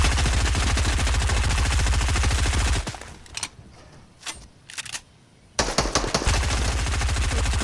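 SMG fire in a shooter video game, a loud sustained rapid burst that stops abruptly, followed by a few scattered single shots and then another dense burst, with no talking.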